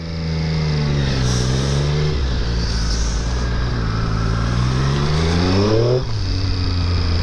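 A Triumph Street Triple 765 RS motorcycle in sport mode on a city ride accelerates hard through two rising revs, with a gear change in between, loud and close throughout with no voices.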